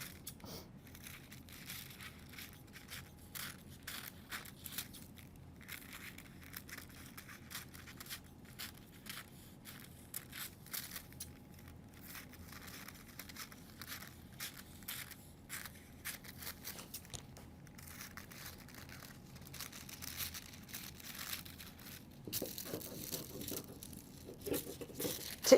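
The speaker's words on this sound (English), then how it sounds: "Tissue paper is not the easiest thing in the world to cut, is it?" Scissors snipping through thin tissue paper during a craft session, giving a steady run of soft crinkly cuts and rustles that get louder toward the end, with no voices.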